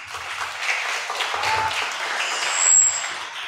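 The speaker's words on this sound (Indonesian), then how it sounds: "Boleh kasih tepuk tangan?" A room full of people at a school talk show breaks into applause, a dense patter of clapping that holds steady and swells slightly near the end.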